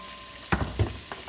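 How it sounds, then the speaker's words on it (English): Broccoli stalks and bite-sized potato pieces drop into hot butter in a pan, setting off three bursts of sizzling spatter in close succession. "we're going to toss in the broccoli stalks and the 2 potatoes that I've cut up into"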